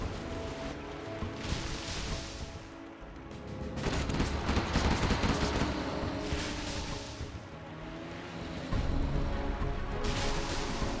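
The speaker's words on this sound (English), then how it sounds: "Gatling tank in the center" Gatling tank weapon fire in Command and Conquer: Generals Zero Hour, rapid bursts of gunfire mixed with explosions in a busy battle, loud, with no talk.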